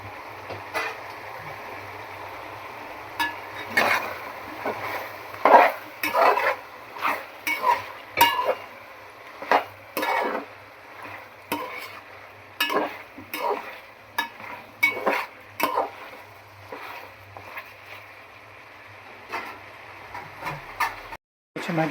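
Chicken fries in oil with turmeric in a pan, for a tamarind-leaf chicken fry, while a spatula scrapes and clatters in repeated uneven strokes over a soft, steady sizzle.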